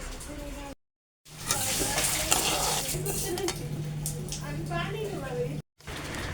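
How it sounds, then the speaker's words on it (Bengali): Lentils being lightly fried in a pan for khichuri, with a steady sizzle and stirring scrapes of a utensil against the pan, while a voice talks over the cooking. "এবার আমি ডালগুলোকে একটু হালকা ভেজে নেব"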